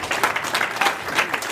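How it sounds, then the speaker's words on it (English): Audience applause at a community event against gun violence, a steady wash of many hands clapping at moderate volume with gentle swells, no voices over it. "We ought to give them a round of applause."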